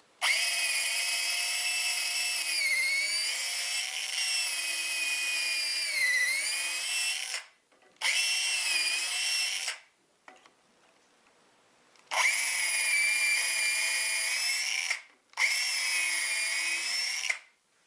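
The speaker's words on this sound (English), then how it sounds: "So luckily, I happen to have a right angle drill. Now we can drill the pilot holes." A right angle drill whines loudly through pilot holes in wood in four long bursts. The pitch dips under load, and there is a short quiet pause between the second and third runs.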